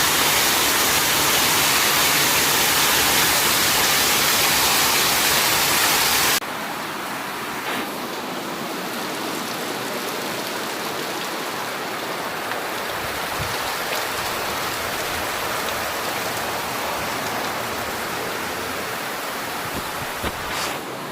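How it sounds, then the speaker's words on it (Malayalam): A sudden downpour gives a dense, loud hiss of rain that drops abruptly to a softer, steady patter with scattered drops partway through, with no voices. "പെട്ടെന്ന് ഒരു മഴ"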